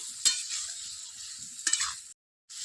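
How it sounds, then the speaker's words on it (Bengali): Cauliflower and potatoes being stirred through spiced masala in a pan, with scraping strokes over a steady sizzle, two sharper clatters and a brief silent gap near the end. "এর মধ্যে দিয়ে দেবো ফুলকপি আর আলু দিয়ে 1 মিনিট নাড়াচাড়া করে"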